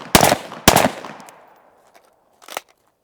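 Rifle shots ring out in a timed shooting drill, two sharp, loud reports close together followed by a fainter third after a pause.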